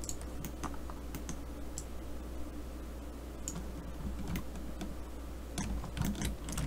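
Computer keyboard keys are pressed in a steady stream of light clicks over a low constant hum, close and quiet, without any talking.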